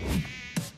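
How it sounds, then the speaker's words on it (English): Mosquito buzzing in a pest control advertisement, a brief steady high whine heard up close with a couple of soft thuds under it. "When mosquitoes show up"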